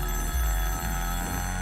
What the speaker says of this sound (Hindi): मेरे पति का फोन है